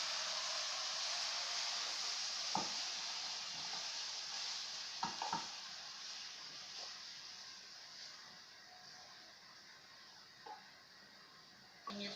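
Chicken for chow mein sizzles steadily in a hot pan, a continuous close hiss broken by a few soft scraping clicks of stirring, with no voices.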